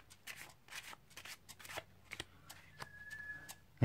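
Playing cards get an overhand shuffle, with a soft run of quick, papery riffling slaps and rubs, close and quiet, in an irregular rhythm.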